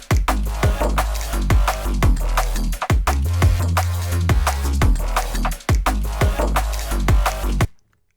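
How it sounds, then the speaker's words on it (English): Unprocessed Vital synth bass patch driving a drum and bass beat, with punchy kicks and snares over a sustained low bass line that runs loud and steady before cutting off abruptly near the end. "this is the original vital patch without any processing on."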